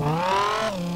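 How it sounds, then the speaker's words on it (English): A V10 car engine in the racing video game Street Legal Racing Redline revs in a brief, loud burst, its tone climbing and then dropping as a gear change comes through. "It's got the V10 sound, alright, that's pretty epic."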